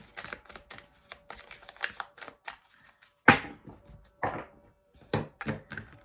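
A deck of tarot cards shuffled by hand, giving a run of soft, crisp papery riffles and taps in irregular bursts, close and fairly quiet, with a brief pause near the middle and no talking.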